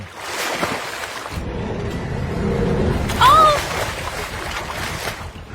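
Sea water washes and sloshes around a boat on open water, with steady wave and wind noise and a brief louder splash midway, while a faint voice is heard in the background.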